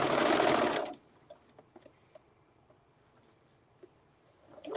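A sewing machine stitches quilt fabric in a loud, steady close-up whir for about a second and then stops, leaving faint clicks and handling noises before the motor starts up again at the end.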